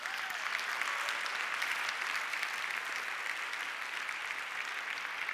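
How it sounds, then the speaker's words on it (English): Steady audience applause at a public health session, a dense even wash of clapping from a crowd that holds at constant volume throughout with no talking over it. "Let's give another round of applause."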